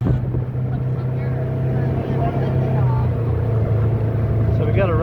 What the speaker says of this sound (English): we got a ride in a little golf cart here from the resort, taking us to the top up here